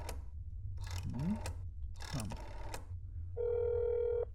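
A telephone in the horror game That's Not My Neighbor gives a steady electronic ring tone near the end, after a few muffled thumps over a low background hum.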